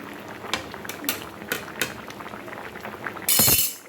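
Vegetables bubbling in a cooking pot, mixed with sharp metallic clinks of a utensil against the rim and a louder rush of liquid near the end, close by, no voices.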